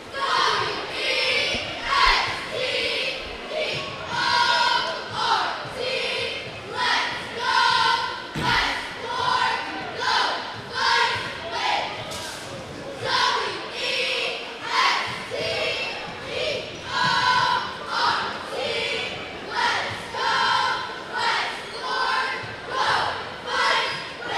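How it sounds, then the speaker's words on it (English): Cheerleaders at a high school basketball game lead a rhythmic chant, repeated in pulsing bursts and echoing over a noisy crowd in a gym, with an announcer's voice heard at times. "Cheerleaders come up once again to hype up the crowd."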